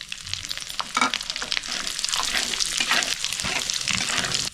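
Whole spices, dried red chillies, torn bay leaf and cumin crackle and sizzle in hot oil left from frying prawns, a steady dense hiss with small pops throughout, close and fairly loud, no voices.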